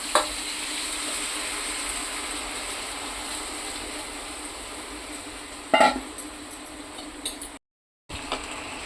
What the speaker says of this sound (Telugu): ఉప్పు కారం వేసిన చేప ముక్కలు అయితే వేస్తున్నాం కదండి. ఇప్పుడైతే ఒక 5 నిమిషాల పాటు నేను స్లోగా కుక్ చేస్తున్నాను.